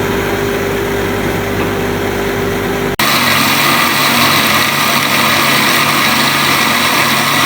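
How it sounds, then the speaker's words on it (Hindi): Electric grinder blends yogurt, onion and nihari masala into a paste, whirring loud and steady, with a brief cut and a harsher, fuller grinding tone after it restarts. "चलिए मैं इसको करती हूँ ग्राइंड।"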